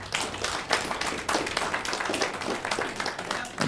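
Scattered, uneven clapping from a small comedy club audience, loud and fairly close, with individual claps standing out rather than a full roar.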